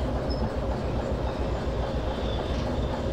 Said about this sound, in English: And watch the train go by.